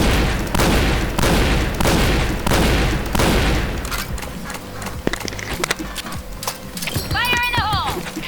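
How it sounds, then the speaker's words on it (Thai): Shotgun shots in the online shooter Point Blank fire in a fast, steady rhythm of about half a dozen loud, punchy blasts. They are followed by quieter clicks and short in-game effect tones. "ลองยิงลูกซองแบบปัญหาที่เราเคยที่เราเจอนะครับ"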